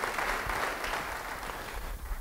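A church congregation claps together at a sermon, steady broadband applause sustained throughout at moderate, slightly distant level, with no clear speech on top.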